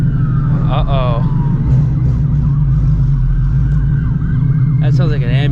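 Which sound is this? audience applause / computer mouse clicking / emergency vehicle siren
emergency vehicle siren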